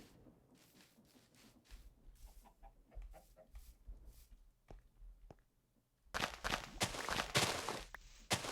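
Chicken clucks from a modded Minecraft world, with a bone chicken nearby; soft scattered clucks early give way to a louder, denser burst of squawking near the end, alongside faint footstep-like thumps.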